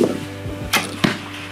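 An arrow released from a bow during an outdoor archery lesson, a quick whooshing swish followed by a sharp thud, close and brief over a low background hum.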